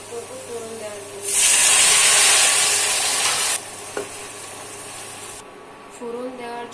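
Lentils hit a hot tempering of fried garlic and chopped onion, setting off a loud, bright hiss of sizzling that lasts about two seconds and then drops to a quieter crackle, with a voice faintly heard at the start and end.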